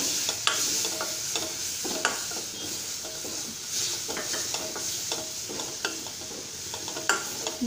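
Onions sautéed in a pan with Kashmiri chili powder sizzle steadily while a spoon stirs and scrapes them, with repeated close scraping strokes over a constant frying hiss and no talking.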